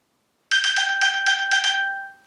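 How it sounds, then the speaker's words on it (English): A phone's alert sound, set off by the find-phone feature of an Apple Watch SE, rings as a quick series of about six bright, bell-like chimes, loud and close, then fades in a ringing tail. "Makes a nice loud sound, and there is your phone."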